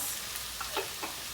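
Marinara sauce sizzling as it hits a hot pan on the stove while making beef and cheese stuffed shells, a steady close hiss with a few soft stirring scrapes.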